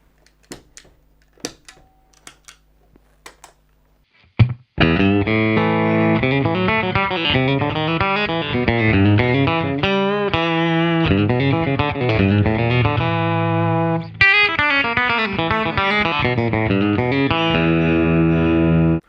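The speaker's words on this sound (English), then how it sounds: "here's the sound with all the pedals switched on, giving us that complete full country guitar tone" A few faint taps, then a full country electric guitar tone with all pedals on sounds alone, bright and twangy with a sustained effected tone, playing steady chords and licks.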